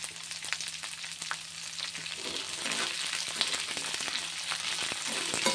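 Peanuts, ivy gourd, chana dal and cumin fry in hot oil for ivy gourd chutney, a steady close crackling sizzle that grows fuller, with scattered stirring scrapes and no talk.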